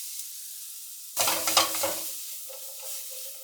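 Courgettes tipped into a hot pan of smoky fish stew with smoked paprika: a sudden loud sizzle and stirring scrape that flares up, then settles to a soft, steady frying hiss.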